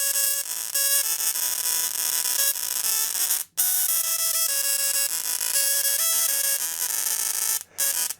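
A bright, buzzy 8-bit square-wave melody from a small gadget beeps steadily in simple electronic tones, with two brief silent gaps, loud and close.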